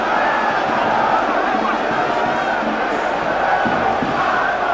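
Massed fans in a football stadium during a Ghana Premier League match between Medeama SC and Hearts of Oak, a continuous dense roar of voices and chanting, moderately loud and steady throughout.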